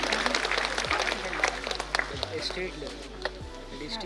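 Dense applause from a crowd at a National Mathematics Day prize ceremony, steady and moderately loud, with a voice talking briefly over it.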